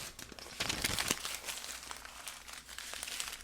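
A voice imitates the crinkle of crumpling paper, a close, dry rustling made of short crackling bursts over a few seconds.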